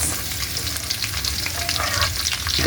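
Garlic and onion frying in pork's own rendered fat, a dense, continuous close sizzle with faint stirring, steady and loud throughout.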